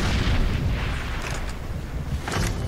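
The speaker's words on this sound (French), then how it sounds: "Ah mais non, c'est une grenade." A grenade explosion in Far Cry 2 gives a heavy, booming blast with a rolling rumble that lingers. Further thuds and crackling bursts follow close by, all loud and without speech.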